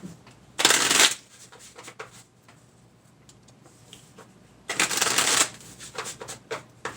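A deck of cards is shuffled in two short, loud riffling bursts separated by quiet handling sounds and light ticks, close by.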